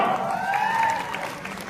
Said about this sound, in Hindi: वाह, एक बार जोरदार तालियां।